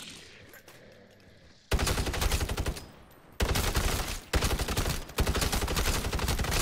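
Heavy automatic gunfire blasts at zombies in Call of Duty MWZ, several loud sustained bursts with short gaps, after a quieter stretch of ambient game noise.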